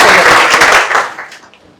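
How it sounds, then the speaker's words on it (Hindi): A short burst of audience applause at an inspirational talk, a loud wash of clapping that quickly thins out and dies away within two seconds. "तालियां"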